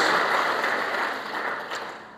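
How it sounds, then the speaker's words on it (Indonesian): A church congregation applauds for Jesus Christ in one steady wash of clapping that is loudest at the start and then slowly fades over about two seconds. "Beri tepuk tangan yang terbaik buat Tuhan Yesus Kristus"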